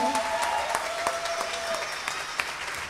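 Concert audience clapping for the band's bassist at a 2016 carol show, a continuous crowd patter with scattered sharper claps and a faint held tone early on, no clear voice over it.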